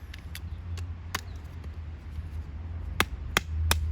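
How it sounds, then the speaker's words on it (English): A Badger OTF knife batoned into wood, sharp hard knocks of a striking stick on the spine arriving in irregular bursts of two or three, close and crisp over a low steady hum, with no speech. "I saw a couple of videos on YouTube whereby the guys are batoning down in wood, so let's check it out"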